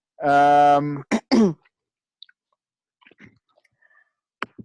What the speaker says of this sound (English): Or is that just a cough?